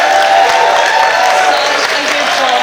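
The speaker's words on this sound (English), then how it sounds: "let's give a big round of applause for Iz" Wedding guests giving a round of applause for Iz, loud continuous clapping with crowd murmur and cheers filling the room briefly.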